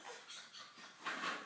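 A dog whimpers in a few faint, high, breathy whines in quick succession in an indoor home setting, soft and close.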